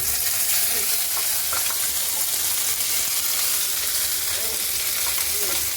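Kharkol leaf paste hits hot mustard oil with a dried red chilli in a kadai, producing a loud, close, unbroken sizzle with faint spluttering pops and no voices.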